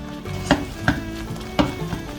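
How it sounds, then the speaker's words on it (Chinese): A pot of assorted mushrooms, including king oyster, enoki, shiitake and oyster mushrooms, with tofu skin, is stirred with a utensil, giving three or four distinct clacks against the pot over a steady low simmering bubble. "把所有菇类搅拌，让它煮至滚。"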